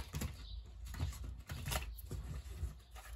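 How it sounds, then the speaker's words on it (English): Tarot cards being shuffled by hand before a six-card reading, giving a soft, papery riffling and patter in several quick bursts with brief pauses, close and fairly quiet, with no talking. "A little bit of shuffling real quick."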